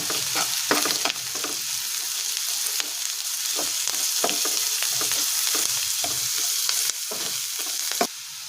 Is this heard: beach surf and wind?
no